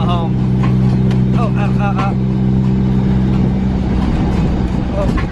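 A car with a destroyed exhaust, on a rainy day at a drifting track, drones loudly and continuously with a rough low rumble, while a voice talks over it.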